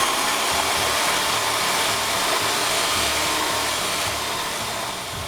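An electric mixer whirs in a steady, loud, broadband drone while beating eggs for Finnish baked pancakes, easing off slightly at the end with no voices.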